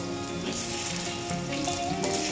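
Pork adobo frying in a pan, with garlic browning in the oil, gives a loud, close, continuous sizzle with crackling spatters and no voices over it.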